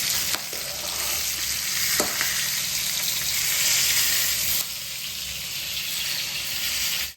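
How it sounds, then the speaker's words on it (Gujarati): Stuffed chillies cook in hot oil with a loud, continuous sizzle up close, broken by an occasional stirring scrape. The frying runs unbroken until it cuts off at the end. "મરચા ચડવા જોઈએ ને હા મરચા ચીજ ચડે તો ભાઈ કાચા ચડાય તેલમાં તેલમાં ચડવા જોઈએ"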